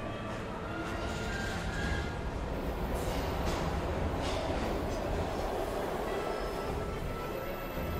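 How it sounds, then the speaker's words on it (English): A train in the video game Heavy Rain rumbles steadily, a dense continuous rolling roar with faint metallic hiss above, close and loud throughout, no talk. "We've got to get on that train, Ethan."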